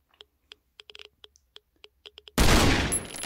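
Crossbow shots hit undead guards in the Last Island of Survival video game: a string of quiet, sharp clicks in uneven rhythm, followed by a sudden loud, noisy burst.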